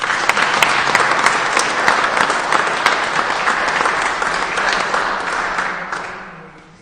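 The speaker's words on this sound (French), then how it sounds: "Que vous pouvez applaudir, s'il vous plaît." A crowd at a prize-draw event applauds, a dense and sustained wash of claps with a few sharper cracks near the start, then fades away over the last seconds.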